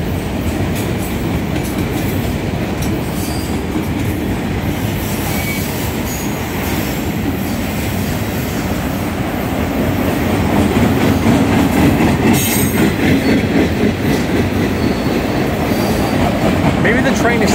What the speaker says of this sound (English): looks like the end of the train is in sight.